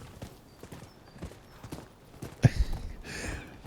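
Horse hooves clip-clopping at a walk in the video game Rise of the Ronin, a quiet, steady rhythm of soft hoof falls with a brief louder clatter near the end.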